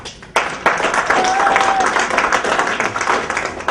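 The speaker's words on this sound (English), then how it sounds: "hold your applause" A comedy club audience breaks into dense, sustained applause that starts abruptly and keeps going steadily, with a voice mixed in over the clapping.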